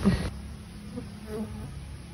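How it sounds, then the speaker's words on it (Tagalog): Collected houseflies buzzing, a faint steady drone after a short louder bump at the start, heard close with no talking. "So, muna ni atong nakolekta nga mga langaw"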